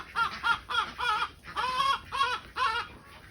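Chickens being fed table scraps give a run of short, rhythmic clucks and calls, close by with a quiet background.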